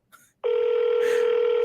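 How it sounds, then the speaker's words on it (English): Telephone ringback tone heard while waiting for a call to connect: after a brief faint noise, a steady, loud electronic ring begins and holds continuously to the end. "It's the longest ring ever"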